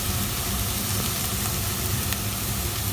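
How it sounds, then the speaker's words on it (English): Ground turmeric and coriander hitting a hot pan of oil for a potato curry, a continuous soft hiss of sizzling, steady and fairly quiet with a faint low rumble beneath. "At this stage I'm going to add the powdered spices"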